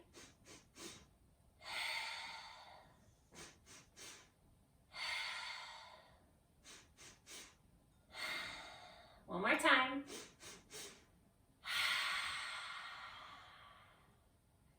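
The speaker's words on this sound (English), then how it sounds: "take 3 sniffs in and then a long exhale out. So just like a bunny sniffing." Quick clusters of three sharp sniffs, each followed by a long, airy exhale, repeating in a steady cycle; a voice speaks briefly partway through.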